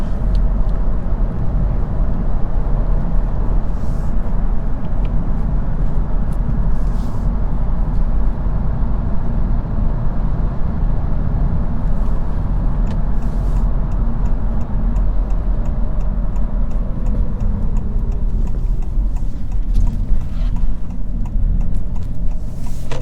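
Cabin of a 2022 Honda Civic Touring sedan with a turbocharged engine moving in traffic: a steady, loud low rumble of road and engine noise continues unbroken, with a few faint clicks and no talking.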